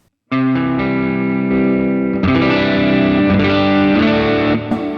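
A distorted electric guitar through a Line 6 POD Go modeled amp plays sustained, crunchy chords, loud and close, with a thick overdriven tone and a shift to a brighter chord midway.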